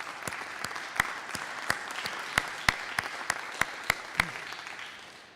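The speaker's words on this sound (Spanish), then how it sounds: "vamos a dar un aplauso a los de la alabanza" Sparse, slow claps from a church congregation applauding the worship team, about a dozen sharp, separate hand claps spaced fairly evenly over a quiet room background.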